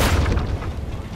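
A bomb blows up in the video game Darkest Dungeon, a loud, deep booming blast that rumbles and fades over about a second.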